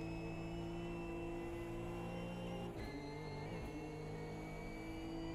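GT3 race car engine at Road America, a steady droning note heard at a distance under circuit noise, with a brief dip in pitch as the driver lifts off the throttle, then continuing.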